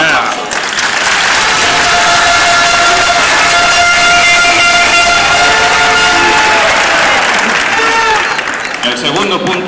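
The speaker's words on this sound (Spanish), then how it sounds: "Un aplauso." A crowd inside a BBVA bank branch during an occupation breaks into loud, sustained applause, dense clapping close and continuous for several seconds, with a few shouts mixed in before it tapers off.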